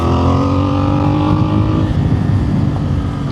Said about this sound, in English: Lets this bike find its lungs and really find its voice, and that's what you're listening to now